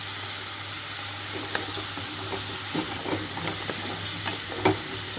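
Chopped vegetables fry in a pan for paneer fried rice, with mint and a pinch of salt added, giving a steady background sizzle under scattered soft clicks and scrapes of stirring.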